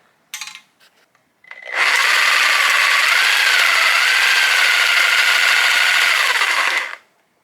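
Spray paint can held to a regular saw blade with hose clamps, a steady loud buzzing rattle running continuously for about five seconds after a brief start, then cutting off.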